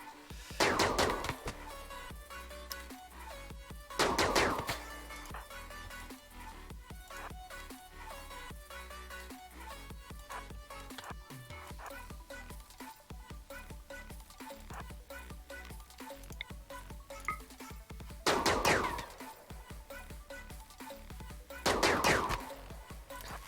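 Gunfire in the video game Rimworld, a few short sharp bursts of shots rising over a steady layer of in-game music and ambience, with no talking.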